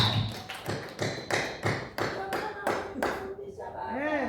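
A church congregation claps in a strong, regular rhythm, about a dozen loud, even beats in a row that fade out near the end, with voices faintly mixed in.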